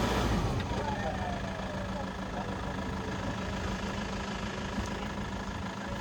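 A safari vehicle's engine idles and strains as it pulls free of mud on a Panchgani jungle track, a steady close motor rumble that runs continuously, with a voice faintly present.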